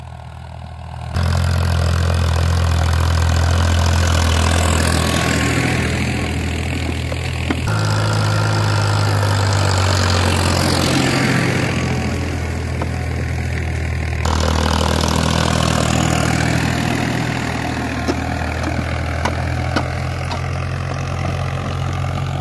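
A new Farmtrac 60 Powermaxx tractor engine running loud and close, a continuous diesel drone that revs up and down in broad swells, with no talk over it.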